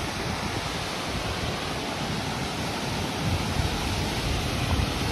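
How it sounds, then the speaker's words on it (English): Jack's River Falls in the Cohutta Wilderness roars as a dense, constant wash of falling water, loud and unbroken, with no voices over it. "Jack's River Falls."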